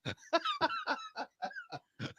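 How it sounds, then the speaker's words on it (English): A run of harsh, rapid coughs in quick succession, close to the microphone, forming a short hacking fit. "coughing his lungs up"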